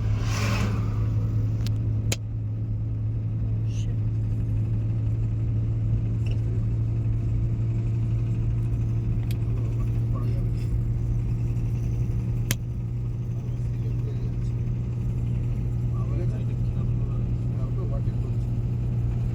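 Steady low engine rumble of a car driving on a main road during a driving lesson, with gear changes, continuing evenly throughout while an instructor talks over it.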